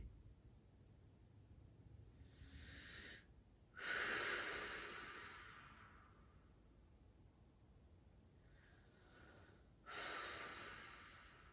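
Several slow, deep cleansing breaths during a yoga practice, heard as soft, airy inhales and long rushing exhales with quiet pauses between them, close and gentle.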